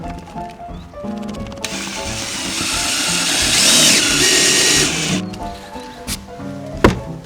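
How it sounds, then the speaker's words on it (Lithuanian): A power drill drives a screw during a car repair, giving a sustained whirring buzz of about three and a half seconds that rises slightly in pitch. Clinks and handling noises come before and after it. "Pasiėmam ir sukam čia."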